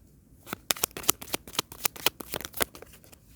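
A deck of tarot cards is shuffled up close, giving a quick run of crisp slapping riffles and flicks over about three seconds, with no voices.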